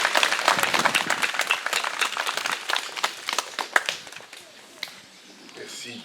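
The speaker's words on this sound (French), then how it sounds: "je pense que nous pouvons l'applaudir" Audience applause at a commemorative ceremony in Laneuville-sur-Meuse marking the 75th anniversary of the Pont Gaudron, with dense clapping that thins and fades over several seconds and a voice heard over it.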